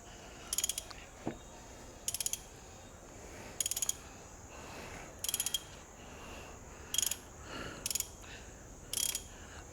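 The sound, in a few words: ratchet turning to remove broken spark plug from engine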